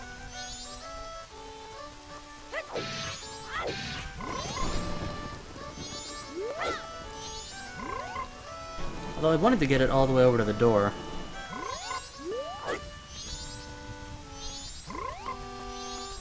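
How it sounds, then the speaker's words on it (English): Frogs croak repeatedly in The Legend of Zelda: Majora's Mask, set against rhythmic in-game music and rain ambience, with a burst of louder croaking midway and someone talking over part of it. "This is the most docile frog ever."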